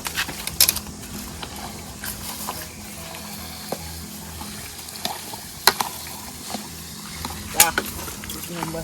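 Chicken frying in a pan at an outdoor village party, a steady sizzle and bubbling with occasional stirring clatters and sharp knocks, under intermittent talk.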